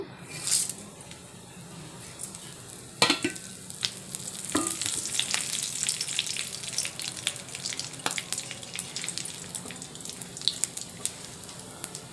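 Cumin, dried chilli, bay leaf and whole garam masala crackle in hot oil, a busy sizzle with sharp pops and a few utensil clinks, close and fairly loud.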